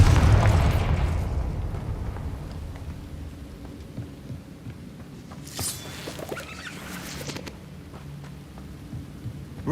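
A Confringo blasting spell cast in the Hogwarts Legacy video game, a loud booming burst at the start that rolls off into a rumbling decay, followed by scattered crackles and small impacts.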